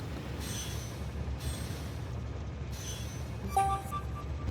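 Trains run through rail intersections in the video game Factorio: Space Age, a steady low rumble with intermittent brighter tonal squeals and a short wheel-screech burst near the end, with no talking.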